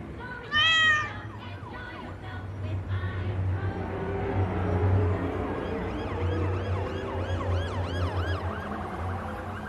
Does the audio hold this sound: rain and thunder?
no